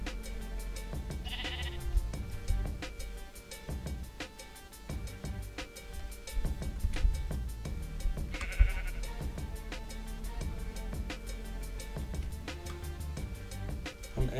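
Sheep in the Minecraft video game bleat twice in short bursts over a busy backdrop of rhythmic ticking and layered game music, the calls moderately loud and separated by several seconds, with no talking.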